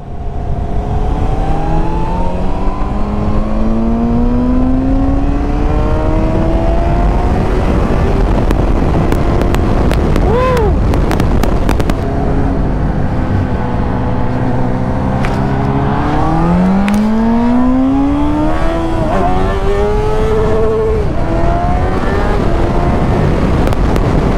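A 2008 Suzuki GSR 600 naked motorcycle revs up through the gears on the road, its engine note rising and dropping with shifts under constant wind rush.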